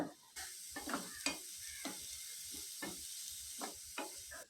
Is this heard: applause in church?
no